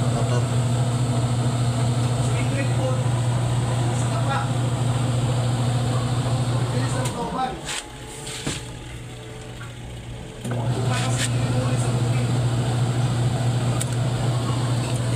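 A Fujidenzo washing machine's spin dryer motor runs with a steady, close electrical hum and low drone. It cuts out briefly partway through, then resumes at the same level.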